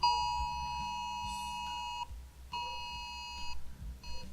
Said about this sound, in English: we got an alert in our phone. Listen to that.